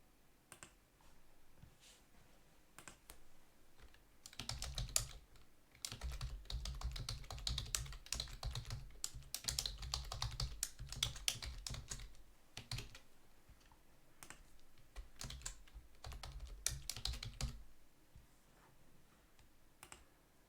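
Rapid clattering keystrokes on a computer keyboard while composing a blog post, close and steady, with bursts of dense typing, brief pauses, and no voices.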